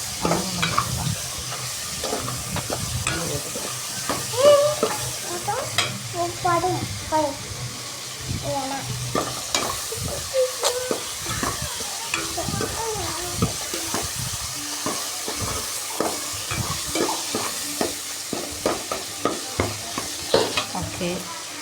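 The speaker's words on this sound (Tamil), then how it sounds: "நல்லா வதக்கி நல்லா வதங்கி வரட்டும்." Onion masala for chicken 65 sautés in a pan with continuous sizzling and frequent scraping stirs, while a voice talks intermittently over the cooking and faint running water is heard.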